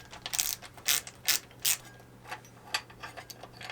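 Hand ratchet clicking in short bursts as it loosens a 5/8 bolt on an Evinrude 75 hp outboard motor, sharp close ratcheting strokes repeated in an uneven rhythm.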